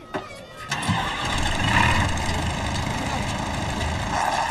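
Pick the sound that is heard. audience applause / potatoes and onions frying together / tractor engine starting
tractor engine starting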